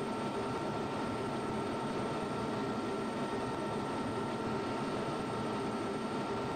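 A fighter jet taking off in the Falcon BMS flight simulator, a continuous, even engine roar with a broad rushing hiss that stays loud and unchanging for several seconds, with no talk over it.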